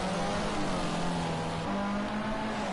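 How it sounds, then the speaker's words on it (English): Formula C race cars on a NORL Round 10 circuit weave hard to warm their tyres, giving a steady, loud engine drone with a sustained low tone that steps slightly higher partway through, with no voices. "warming up their tyres quite aggressively"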